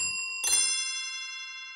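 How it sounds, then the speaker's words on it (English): A single glistening high note from a Saucer Bell toy piano, played on the Spectrasonics Keyscape Creative instrument, is struck once and rings out with a clear, bell-like tone that slowly fades. "We take these glistening highs of the Saucer Bell toy piano,"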